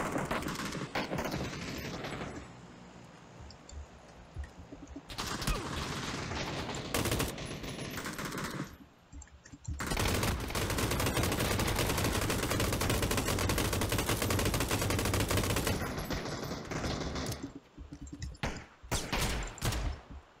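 Gunfire and explosions fill a PUBG match: dense bursts of rapid automatic fire and blasts from all around, loud and close, broken by short quieter gaps.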